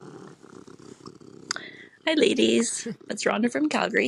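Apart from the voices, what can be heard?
cat purring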